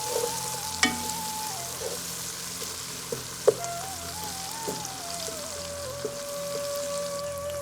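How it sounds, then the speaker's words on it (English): Onions and mustard seeds fry in a pan for aloo gobi, a steady close sizzle broken by a few sharp spoon taps and scrapes during a quick stir. "A quick stir again."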